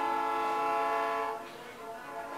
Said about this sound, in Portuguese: Vocês estão ouvindo, né? O trem passando aí?